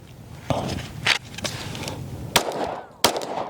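Sharp gunshots from a Shadow Systems DR920 Elite pistol crack out at an irregular pace, about five shots, over a noisy outdoor range background.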